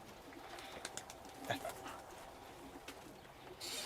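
Soft cooing of large-breed pigeons in an outdoor setting, a few low murmuring calls amid background noise and faint voices.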